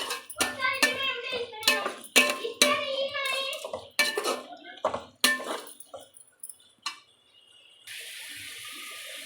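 Rice mixture with rock salt being stirred in a pot, a series of close scraping and clattering spoon strokes against the metal, uneven in rhythm, fading toward the end into a steady faint hiss.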